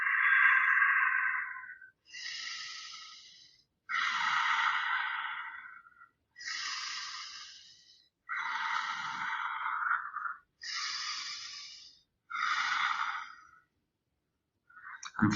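Slow, deep breathing through a yoga forward fold in an Ashtanga-style beginner practice, heard as five long, close, steady inhale–exhale cycles with short pauses between them and no talking.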